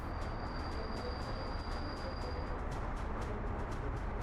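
A train rolls into a station in the city-building game Workers & Resources: Soviet Republic, a steady rumbling clatter of wheels and cars with no pauses.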